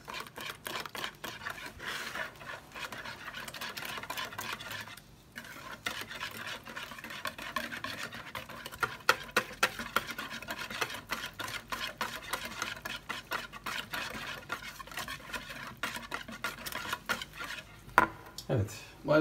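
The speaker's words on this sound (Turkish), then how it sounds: "Sonra bu karışımımızla yumurtamızı bir karıştıralım şöyle" Beaten eggs are stirred into a mixture in a bowl for kaygana, a steady run of close scraping and clinking of a utensil against the bowl, with some talk over it.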